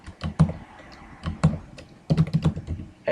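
Close, crisp keystrokes on a computer keyboard as C++ code is typed, coming in short irregular bursts with a brief pause mid-way and no talk.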